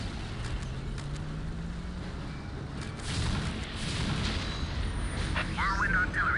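A Whirlwind artillery tank fires during a Warhammer 40,000: Dawn of War battle, with low distant thuds and rumbling booms over a busy background of battlefield noise and faint voices.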